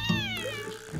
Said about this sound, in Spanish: ¡Ese es un gato!